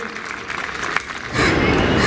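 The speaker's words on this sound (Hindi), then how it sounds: "तो जोरदार तालियों से स्वागत किया जाए एडवोकेट सीमा कुशवाहा जी से" An audience at a public talk applauds to welcome a speaker, a soft patter of clapping that swells abruptly into a fuller, louder round partway through.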